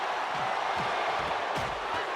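A capacity arena crowd in the WWE 2K25 wrestling video game keeps up a steady, dense roar during a Stone Cold versus Rikishi match, with faint traces of commentary beneath the wash of noise.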